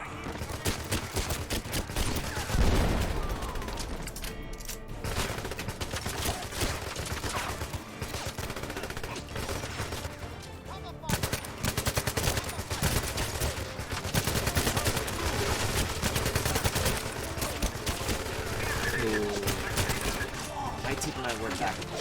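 Rapid gunfire and bursts of automatic weapons from the James Bond shooter 007 Legends, dense and continuous for the whole stretch, with a voice talking over the shooting.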